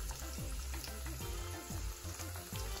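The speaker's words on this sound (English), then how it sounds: "I'm also gonna add some cooking wine to this recipe." Garlic in a frying pan with cooking wine added while making General Tso chicken, a steady close sizzle with regular knocks and scrapes of stirring and a faint watery hiss, no voices.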